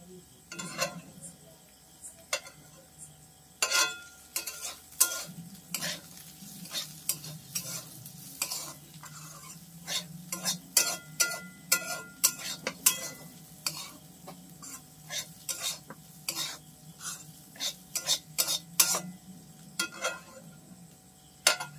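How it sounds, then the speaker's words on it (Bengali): Mung dal is stirred and dry-fried in a pan, a spoon scraping and tapping the metal in frequent sharp strokes over a faint sizzling hiss, close and fairly quiet, with no one talking. "লাল করে ডালটাকে আমি লাল করে এই যে ভেজে নিচ্ছি, তোমরা দেখতে থাকো।"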